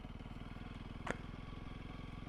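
Honda CRF300L with K-Tech suspension idling or ticking over slowly on a Suffolk trail, a steady low engine pulse throughout with one brief clatter in the middle.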